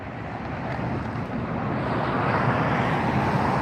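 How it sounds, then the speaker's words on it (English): United Express Embraer 175 regional jet at LAX, a loud broadband engine roar that builds slightly and holds steady, heard alone without voices. "United Express Embraer 175 jet. Very popular jet with the regional carriers."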